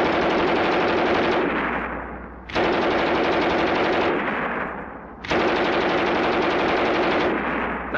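A German MG 34 machine gun from WW2 fires three long, loud bursts of rapid automatic fire, each lasting about two seconds with brief pauses between, during a shooting test.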